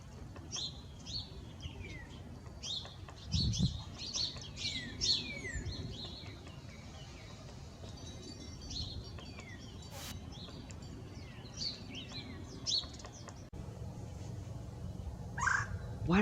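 A woodpecker in a spring garden calls out to a mate with repeated bursts of short, high chirping notes spread over a quiet outdoor background.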